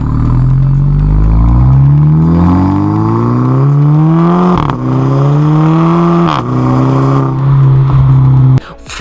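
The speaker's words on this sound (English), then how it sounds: "exhaust grunting," A Volkswagen Golf engine revs hard and loud, its pitch climbing steadily with two brief dips like gear shifts before cutting off abruptly near the end, with no talking.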